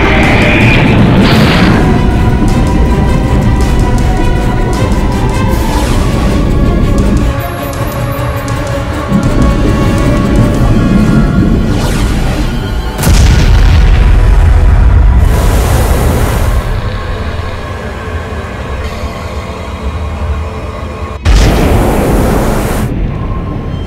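Missile launched at a target in a monster film battle, followed by loud booming explosions and rumbling blasts that fill the scene, with several heavy bursts and sustained roar throughout.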